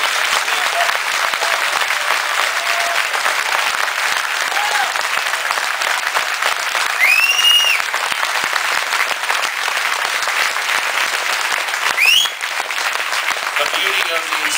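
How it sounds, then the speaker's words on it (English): A crowd at a Veterans Day event applauds Harley riders, sustained clapping that holds steady for the whole stretch, with a few faint whistles and cheers rising above it. "they deserve a round of applause"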